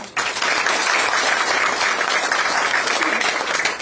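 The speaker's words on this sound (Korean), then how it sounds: "박수 한번 드리시죠" Dense, steady crowd applause at an outdoor political rally in Yeonggwang, South Korea, starting abruptly and holding loud and continuous throughout, with no pause and no voices standing out.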